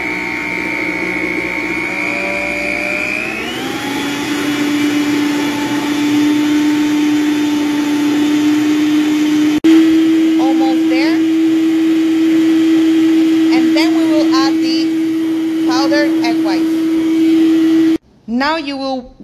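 Electric mixer blending allulose into a protein bread mixture: loud, steady motor whine that shifts pitch early then holds, with faint clinks and talk over it, cutting off near the end.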